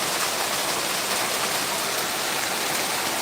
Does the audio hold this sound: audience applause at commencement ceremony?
no